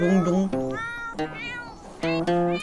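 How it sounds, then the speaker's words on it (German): A cat in The Sims 4 meows in a string of drawn-out, tuneful cries that rise and fall as if singing along to in-game music, close and clear. "Und die Katze singt mit."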